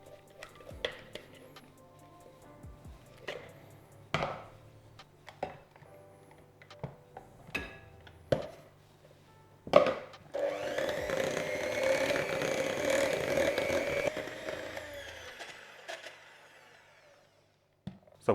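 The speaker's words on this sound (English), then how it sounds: "I am literally just going to plop it in and use the beaters to actually kind of beat it in." Electric hand beaters whir steadily as they beat cream into key lime pie filling, a dense broadband motor whine running for several seconds after scattered knocks and clatter of bowl and utensils, then cutting off.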